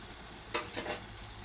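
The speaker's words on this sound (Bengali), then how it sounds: "মশলাটাকে একটু ভালো করে কষিয়ে নেব" Spice paste for a chicken curry with tomato sautés in a pan, a faint frying hiss with two short scraping stirs of the spatula close by.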